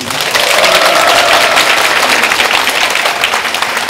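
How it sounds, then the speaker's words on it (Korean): Audience at a Korean civil-service job-interview prep lecture bursts into dense, steady applause that stays loud and even for several seconds, filling the hall with rapid overlapping claps. "다시 한번 김장 원장님 뜨거운 박수 부탁드립니다"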